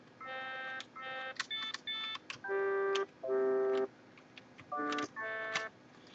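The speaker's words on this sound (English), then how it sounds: "That's an original instrument from an actual Sega Genesis game" A Sega Genesis FM synth instrument from an original game plays through the FMDrive plugin, sounding a series of short, bright, buzzy tones at changing pitches with brief gaps between notes.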